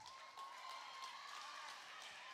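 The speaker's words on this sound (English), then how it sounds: "Big applause from a well-traveled Red Lake County Central fan base" Fans of Red Lake County Central cheer and clap at a high school volleyball match, a steady roar of crowd noise in a gym with a thin sustained whistle-like tone running through it.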